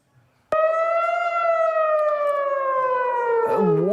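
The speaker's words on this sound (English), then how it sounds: "Warning sirens were activated throughout Tel Aviv when air defense systems were triggered to intercept incoming projectiles" An air raid warning siren in Tel Aviv starts abruptly and holds a loud, steady wailing tone, drifting slightly lower before beginning to waver near the end.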